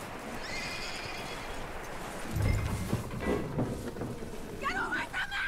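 A horse neighs and whinnies in Red Dead Redemption 2, with hooves clopping and a low rumble of weather behind it, heard at moderate loudness alongside brief in-game talk.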